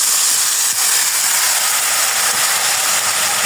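Spices fry in a pan with a bright, continuous hiss of sizzling oil, loud and steady throughout, accompanied by faint clicks of stirring and no talking.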